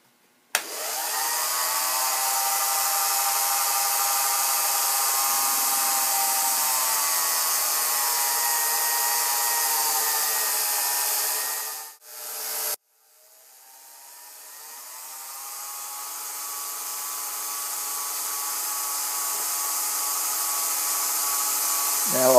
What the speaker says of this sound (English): we chuck the PCB into a lathe and we'll mark off a 3/4 inch section and cut it